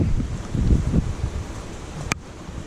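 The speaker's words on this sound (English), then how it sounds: "That's a good gust right there." Hurricane Florence wind gusts in a brief, rough rumbling buffet against the microphone, swelling and then easing, with a short sharp knock near the end.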